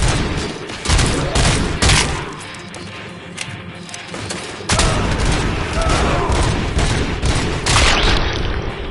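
Gunfire in the video game RoboCop: Rogue City, loud dense bursts and sustained rattling shots with booming impacts, continuous throughout.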